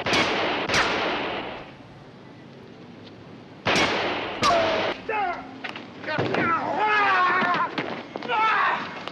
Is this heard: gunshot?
yes